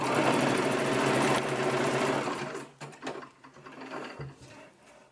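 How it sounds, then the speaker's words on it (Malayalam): A sewing machine runs in a fast, steady mechanical whir while stitching a cross piece onto a Kerala-style salwar top, loud and close for about two and a half seconds, then slowing into softer, uneven bursts. "ക്രോസ് പീസ് എടുത്ത് ഇതിങ്ങനെ ഇവിടെ അടിച്ചു കൊടുക്കാം."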